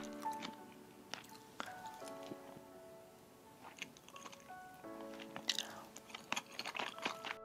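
Pickles being chewed with a convenience-store cheese pork cutlet lunchbox: close, quiet crunchy bites and squishy chewing in irregular bursts, with no talk.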